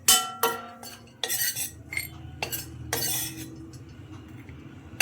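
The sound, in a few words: raisins being dry-roasted in a kadhai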